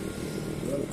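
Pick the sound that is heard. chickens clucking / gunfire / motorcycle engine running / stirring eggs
motorcycle engine running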